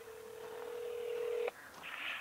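Steady single-pitch telephone tone from a Wi-Fi computer phone call, holding for about a second and a half before cutting off, followed by brief higher electronic beeps, alone and fairly faint.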